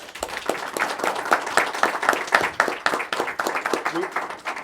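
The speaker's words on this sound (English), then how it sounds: "Let's give them a warm round of applause" People at a council meeting give a warm round of applause for the Nottoway Gators team, steady crowd clapping with crisp individual hand claps throughout and a voice briefly heard toward the end.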